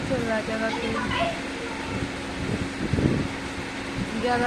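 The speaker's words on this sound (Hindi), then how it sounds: "अभी यहाँ पर कूलर चल रहा है।" An air cooler runs steadily indoors, giving a constant whirring hum throughout, while a person talks over it and children's voices are faintly heard in the background.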